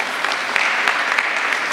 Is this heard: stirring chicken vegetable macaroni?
no